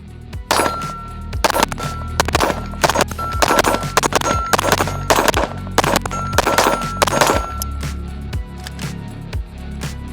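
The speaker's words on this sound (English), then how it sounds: "let's load up some more mags" Pistol magazines are loaded by hand, with repeated sharp metallic clicks and snaps as rounds are pressed in one after another in an irregular rhythm, heard close with no talking.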